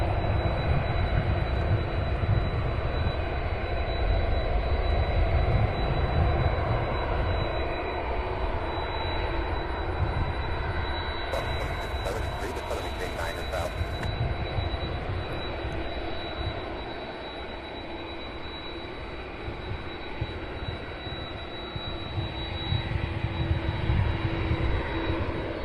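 Air Transport International jet aircraft at Cincinnati/Northern Kentucky airport, a steady jet engine roar with a high whine running throughout, swelling and easing slightly, heard alone.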